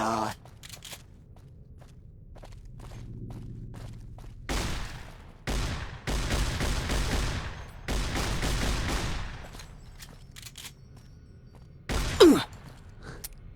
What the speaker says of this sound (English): figure that was probably about 25 hits with a shotgun